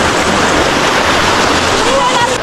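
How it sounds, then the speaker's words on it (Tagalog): Strong river current rushes in a dense, loud, unbroken roar that fills the whole moment, with a voice faintly in the mix. "Ang lakas ng agos ah."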